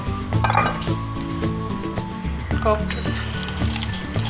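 Mixed fruit for a fruit chaat being stirred in a bowl with a spoon, giving steady clinks and scrapes of utensil against the dish at close range.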